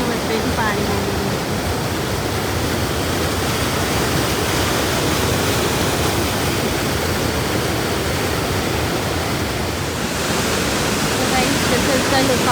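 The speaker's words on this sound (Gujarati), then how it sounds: "This is the lookout point, Upper Falls." Upper Falls waterfall in Banff roars as a steady, loud, broadband rush of falling water heard close from a lookout, unbroken for the whole stretch, with no break or change in its intensity.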